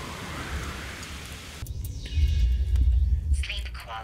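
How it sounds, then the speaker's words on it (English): Steady rain hisses across the scene in the survival game The Solus Project, joined by low rumbling swells like distant thunder in the second half, with a voice speaking faintly beneath. "Oh, and the rain is coming back."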